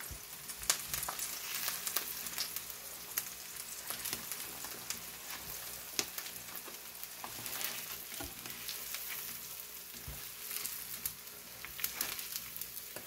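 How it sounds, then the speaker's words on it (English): Four smash burgers and four eggs fry on a griddle, giving a soft, continuous crackling sizzle with scattered sharp pops and occasional scraping clicks, fairly faint and steady throughout, with no one talking. "I got 4 smash burgers and 4 eggs on this griddle, so not bad."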